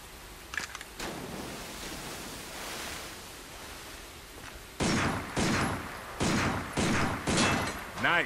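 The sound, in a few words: handgun shots at a sign in video game Binary Domain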